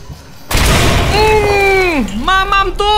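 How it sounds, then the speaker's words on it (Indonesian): A deep, loud explosion booms out in the horror game Amnesia: The Bunker, with a rumbling tail, while someone talks and exclaims over it. "Meledak."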